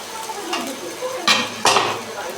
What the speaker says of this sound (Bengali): এখানে আমি মাংসটা দিয়ে দিচ্ছি।